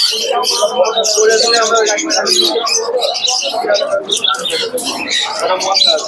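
Pigeons coo and chirp close together amid busy background chatter and crowd noise at the Krishnanagar pigeon market.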